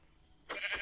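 A sheep in the video game Minecraft bleats once, short and close, breaking in suddenly after a quiet moment with no talking.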